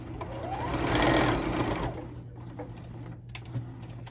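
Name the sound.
sewing machine stitching fabric makeup remover pad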